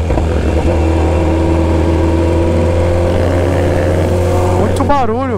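A BMW S1000RR sport motorcycle with an aftermarket exhaust drones loudly up close, then revs sharply in quick wavering bursts near the end, with faint voices underneath.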